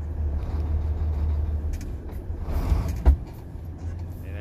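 A Sinotruk truck with a 10-speed gearbox rumbles at low idle-like revs during downshifting, a steady close engine drone with a brief clunk partway through.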